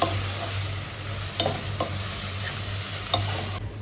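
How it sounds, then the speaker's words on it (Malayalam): Chicken masala and pepper powder being stirred through a pan with a spatula, giving a steady soft sizzle with a few sharper scrapes, close and alone with no talking. "ചിക്കൻ മസാല, കുരുമുളക് പൊടി, നല്ലപോലെ പുളിക്കൊക്കെ ഒന്ന് മിക്സ് ചെയ്ത് കൊടുക്കാം."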